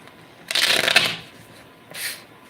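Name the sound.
shuffling tarot cards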